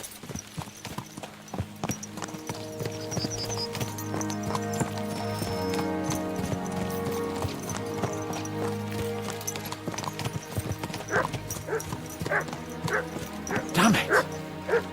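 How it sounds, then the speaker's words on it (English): Horses gallop in the medieval game Kingdom Come, their hooves clip-clopping rhythmically beneath music, with dogs barking and yipping and voices talking over it. "Let's really spur these horses on, eh?"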